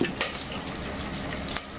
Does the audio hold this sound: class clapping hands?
no